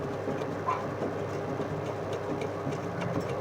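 Oil burner motor and pump spinning on a water heating system during a no-hot-water service call, a steady close mechanical whir with a faint repetitive rattle and a low hum underneath.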